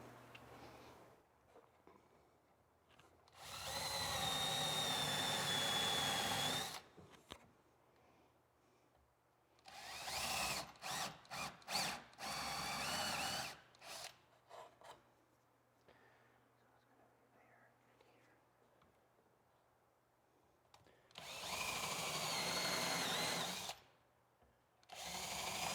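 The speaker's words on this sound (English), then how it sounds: "I'm going to go through and drill and countersink all of the other holes" A power drill countersinks screw holes in walnut floorboards on a wooden boat, running in three loud sustained bursts with shorter stuttering spurts between them and quiet pauses in between.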